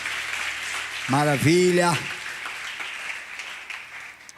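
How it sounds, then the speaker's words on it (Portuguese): A church congregation at a faith service claps together in a steady wash of applause while someone speaks loudly over it, and the clapping continues after his voice stops. "Dê uma salva de palmas bem alegre"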